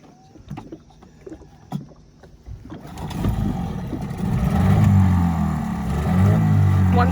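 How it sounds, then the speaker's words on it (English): A small two-stroke outboard motor on a dinghy in the Grenadines comes in after a few quiet seconds of clicks and knocks, then runs as a loud, steady, rising drone. "She's a trusty little two-stroke."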